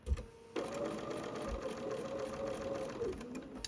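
A sewing machine runs steadily for about three seconds, stitching a quilt block seam and sewing off into the point of a V on a small block half, close and alone after a brief start.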